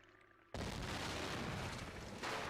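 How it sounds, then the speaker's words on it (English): An explosion in the Nancy Drew game White Wolf of Icicle Creek: a sudden loud blast shatters ice, then a sustained crashing roar that swells again near the end. "Whoever threw that ice ball at me must have set off an explosion that shattered the ice."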